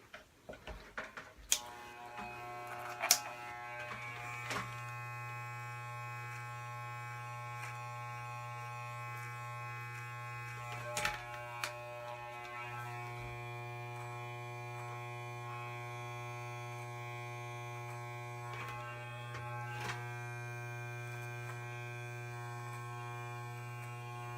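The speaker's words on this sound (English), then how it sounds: "I actually use this side to brush my clippers out on when I'm trimming the beard" Electric beard clippers hum steadily and close throughout a beard trim, a constant buzzing drone with a few faint clicks and taps over it and no speech.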